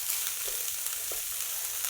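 Onions and tomatoes fry in a pan with a steady, close hiss of sizzling and faint stirring clicks, continuous and even with no voices.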